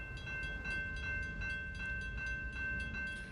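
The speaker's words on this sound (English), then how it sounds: "the arms came down and the alarms are going off" A railroad crossing alarm rings in a steady rapid pulse as the gate arms come down, with a sustained tone and low rumble beneath, heard outdoors during flood-watch news coverage.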